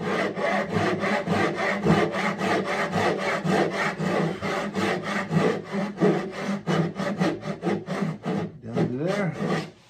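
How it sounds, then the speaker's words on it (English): A hand saw makes freehand cuts into a wooden guitar body for a neck dovetail, its close, loud rasping strokes coming in a fast, even back-and-forth rhythm that slows toward the end. "So now just some freehand cuts"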